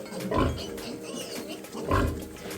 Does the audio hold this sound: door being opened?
no